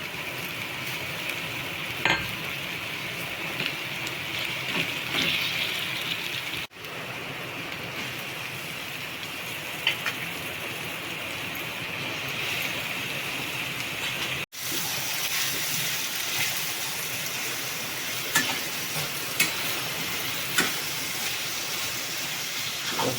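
Crushed ginger-garlic paste fries in a hot pan with a steady, close hiss of sizzling that runs on evenly, broken only by two brief dips.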